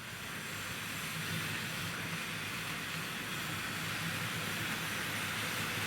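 Small Tri-ang N2 tank model locomotive running round a model railway layout, a steady, faint whirring motor drone with continuous rolling rumble and no breaks.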